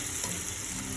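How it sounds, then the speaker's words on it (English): Vinegar hits a hot pan used for pan-fried salmon and sizzles at once, a loud, even hiss that holds steady for the whole moment without any talking. "Now I'll be adding in vinegar"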